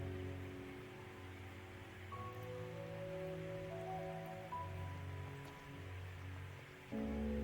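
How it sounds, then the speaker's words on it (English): Steady rain falling in the video game Skyrim, a soft continuous hiss under quiet background music, with no talking. "Yeah, it's raining."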